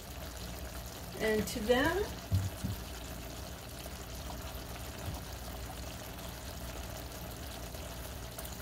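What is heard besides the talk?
pouring reserve broth into smoked collard greens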